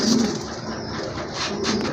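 A large female pigeon coos steadily and fairly close for about two seconds, its soft throaty calls continuous and unaccompanied by talk.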